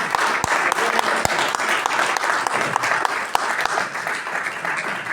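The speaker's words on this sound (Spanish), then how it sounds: "Demos un aplauso al Señor" A church congregation claps together in praise, close, loud applause with several sharp individual claps standing out against the dense patter, continuing throughout.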